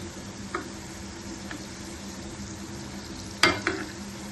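Masala vadai fry in hot oil with a soft, steady sizzle and bubbling, broken by a few light ticks and one sharper clink of a utensil against the pan, with no voices.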